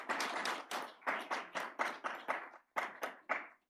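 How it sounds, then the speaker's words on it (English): A small conference audience applauds a speaker in several short bursts of clapping, each swelling and fading, with brief gaps between them and a final pause. "A big round of applause."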